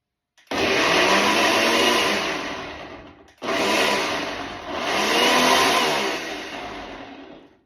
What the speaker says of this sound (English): I have put it in this, my Ninja, because I don't have like a, whatever those things are called, blenders. And I'm just gonna pulse it.